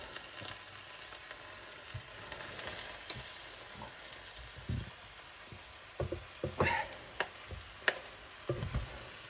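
Cabbage and spinach curry fries in a pan with a steady sizzling hiss, broken by irregular scraping and stirring knocks that grow busier and louder toward the end.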